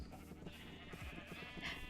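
A sheep bleats inside a Minecraft-style crafting video game, a wavering animal cry standing out faintly over steady background game sound.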